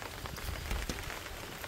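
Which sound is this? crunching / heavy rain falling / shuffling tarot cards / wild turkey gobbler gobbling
heavy rain falling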